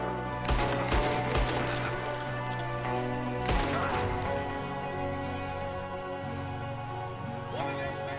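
Enemy gunfire crackles in a Red Dead Redemption 2 shootout, with a shooter firing from a window; sharp repeated shots and bursts come over a steady backdrop of game music, a few louder cracks standing out near the start and middle.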